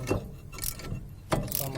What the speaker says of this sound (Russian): У меня есть трещотка.